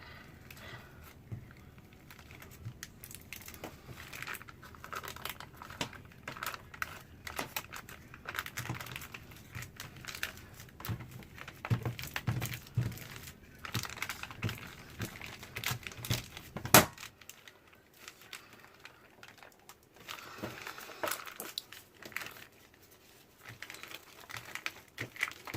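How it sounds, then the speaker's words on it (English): A spatula squeegees cold process soap frosting down a plastic piping bag, giving faint, uneven crinkling and scraping bursts that stop short near the end, with no talking. "I'm going to get my spatula and squeegee my soapy frosting"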